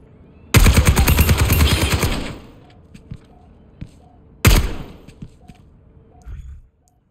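A weapon firing at training bots in Overwatch 2: a loud two-second automatic burst, a pause with faint clicks and small impacts, then a shorter second volley, with no talking.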